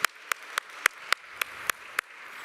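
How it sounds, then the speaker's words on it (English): A single person claps eight times in slow, steady succession at a conference event, each clap sharp and fairly close, separated by brief quiet gaps with no voices present. "A big round of applause for the panel"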